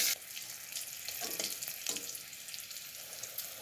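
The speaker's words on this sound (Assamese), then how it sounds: "আৰু এইখিনি এতিয়া অলপ ভাজিব লাগিব।" Dried thekera tenga slices (Garcinia pedunculata) fry with panch phoron in hot oil in a wok, giving a steady close sizzle with small crackles throughout and no talking.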